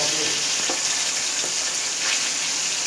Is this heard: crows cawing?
no